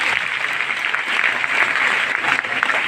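Enthusiastic, steady applause from a crowd at a business meeting, a dense continuous patter of many hands clapping close by without a break.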